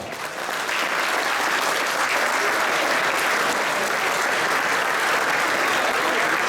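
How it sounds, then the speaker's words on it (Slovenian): Sustained applause from an audience greeting guests at the opening of the 24th autumn agricultural and crafts fair in Komenda, a dense steady roar of many hands clapping throughout. "Za naše goste prosim in velik aplavz."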